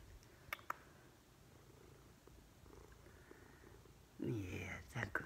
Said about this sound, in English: You've got a very pretty purr, too.